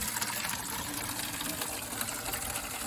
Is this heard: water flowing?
yes